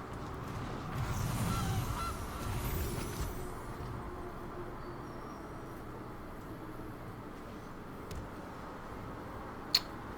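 A cartoonish goose honk sounds as a Goose card is played in an online Magic: The Gathering match, a short squawking burst near the start over low game background, then a faint ambient bed with a sharp click near the end.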